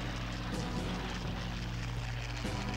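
A propeller fighter plane's engine drones in the WWII air-combat video game Combat Wings: Battle of Britain, a loud, constant low throbbing hum with slight swells as the plane rolls, with no talking over it.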